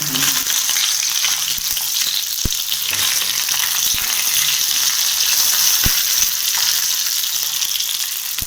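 Curry leaves dropped into hot oil with popped mustard seeds for a tomato chutney tempering, heat off, giving a steady close bright sizzle with a few sharp pops and crackles throughout, no talking.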